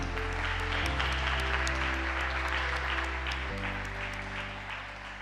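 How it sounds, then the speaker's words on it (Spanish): Steady applause from a crowd at an academic opening ceremony, dense and sustained clapping that continues throughout, slightly fading toward the end. "Así que también otro aplauso."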